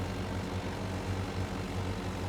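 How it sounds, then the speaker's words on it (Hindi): Tractor pulling a mower in the Farming Simulator 2025 video game, a steady low engine drone with a rhythmic pulsing hum, continuous and fairly loud with no talking. "ट्रैक्टर इस मोवर को बड़ी आसानी से खींचता है,"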